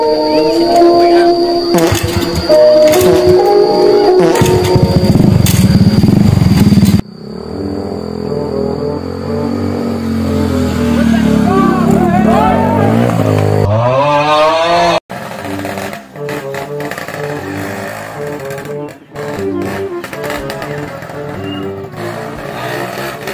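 A motorcycle engine starts running again and revs loudly and continuously, its pitch rising and falling, with a rougher idle and brief sputters in the final stretch.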